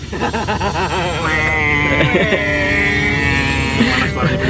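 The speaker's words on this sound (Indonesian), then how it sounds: "Suara motong keramik." A loud, sustained high-pitched whine of a power cutter grinding through ceramic tile, rising in pitch, with voices talking faintly underneath.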